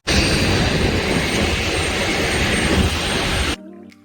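Loud, steady roar of Embraer E190-E2 jet engines up close on the apron at London City Airport, holding constant for several seconds before cutting off abruptly.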